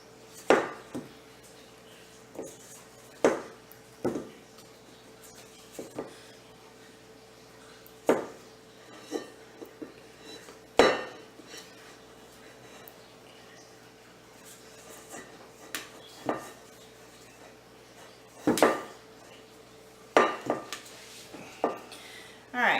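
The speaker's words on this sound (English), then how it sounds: "we're going to scrape out the rest of our dough here" Bread dough for homemade French bread being scraped from a bowl in a kitchen, heard as a series of close, irregular scrapes and knocks of a utensil against the bowl, scattered through quiet background with no talking.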